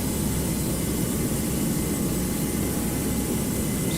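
A Virgin Atlantic Airbus A330-900neo taxiing too fast in the GeoFS flight simulator game, a steady, unbroken jet-engine roar and rumble at constant loudness with no talking.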